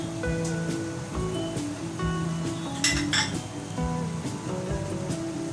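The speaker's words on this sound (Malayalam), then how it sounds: "ഫ്രൈ ചെയ്ത് വെച്ച ചിക്കൻ ഇതിലേക്ക് ആഡ് ചെയ്ത് കൊടുക്കുകയാണ്." Fried chicken pieces being tipped and stirred into noodle sauce in a metal pan, loud clinks and scrapes of a utensil against the pan in an irregular rhythm over a low sizzle, no talking.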